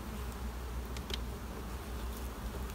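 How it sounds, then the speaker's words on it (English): Honey bees buzzing inside a crowded hive brood chamber, a steady low drone that is faint and constant, with a few brief higher flickers and no talking. "I've got a brood chamber here full of bees going right across"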